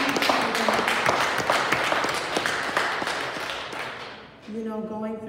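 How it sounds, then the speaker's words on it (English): A church congregation claps for the pastor during a Sunday service, a brisk burst of applause that thins out near the end as a low tone rises. "Can we give him a round of applause?"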